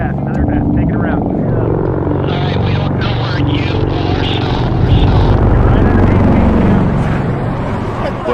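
Osprey tiltrotor aircraft flying over a film set, a loud, continuous rotor roar with beating blades and engine whine that swells slightly midway, with voices talking over it.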